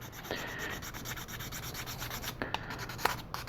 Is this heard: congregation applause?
no